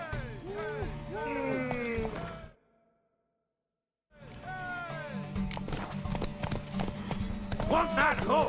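A galloping horse in The Witcher 3 races toward a tower, with rhythmic, close hoofbeats and game music. The sound cuts out completely for over a second, then the hoofbeats resume.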